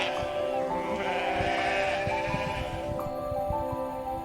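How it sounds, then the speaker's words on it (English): Sheep bleat repeatedly, a flock of more than thirty kept by a farming family beside Tangra Yumco Lake on the Tibetan plateau, steady overlapping calls near and far with no talking. "And more than 30 sheep."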